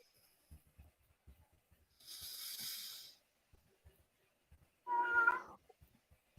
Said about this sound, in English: I can hear an adorable cat.